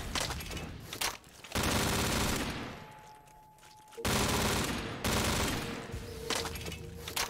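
A light machine gun fires in a zombies video game map, loud sustained bursts of rapid gunfire broken by short pauses, with no talking.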